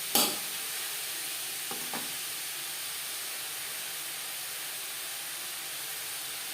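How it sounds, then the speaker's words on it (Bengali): Carrots frying in a pan over a high-to-medium flame give a steady, soft hiss throughout, with a brief scrape of stirring at the start. "হাই টু মিডিয়াম ফ্লেমে 4-5 মিনিট গাজর ভেজে নেব"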